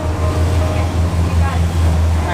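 Twin engines on a yacht run together with engine synchronization, giving a steady, continuous low drone with layered hum close by and no audible beating.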